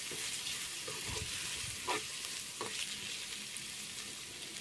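Ivy gourd (dondakaya) pieces with turmeric cooking in oil, a broad continuous sizzle with a few soft stirring scrapes, close and unbroken by talk.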